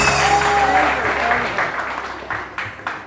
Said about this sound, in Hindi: फरीदा आपा के लिए बहुत सारी तालियां